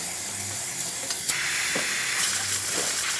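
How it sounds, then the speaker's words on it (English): A steady, forceful hiss of steam blasts continuously from close by, broad and loud, with a few faint clicks underneath, from a Rocket espresso machine's steam wand under full pressure. "Steam, as you can see, full of pressure,"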